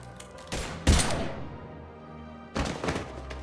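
Gunfire in the video game Mass Effect 3, heard as a few sharp, heavy blasts: one burst, a louder shot with a ringing tail that fades, then another burst of shots near the end.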